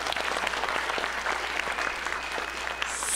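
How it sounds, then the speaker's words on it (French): A crowd applauding steadily, dense clapping from many hands throughout, moderately loud and continuous. "On les applaudit."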